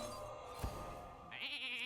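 Sheep bleats sound from the Polymorph spell in the Hearthstone video game, following a short impact sound, then a bright, wavering bleat near the end, faint under the game's background music.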